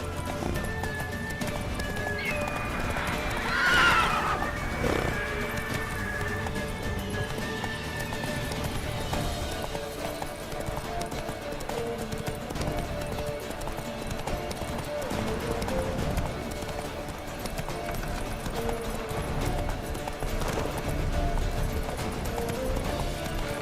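In The Witcher III video game, a horse gallops in steady rapid hoofbeats throughout, with a whinny early on and character voices and game sounds layered over it.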